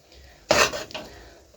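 A metal lid clanks down onto a pot of chicken biryani with one sharp clatter and a softer rattle as it settles, in a quiet kitchen.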